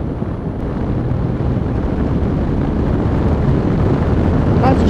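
A 2015 BMW R1200R motorcycle makes a straight roll-on in top gear. A steady, loud engine drone builds gradually and is heavily buffeted by wind rush throughout, with no clear speech.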